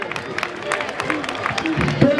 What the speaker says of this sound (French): Je veux qu'on les applaudisse très fort s'il vous plaît.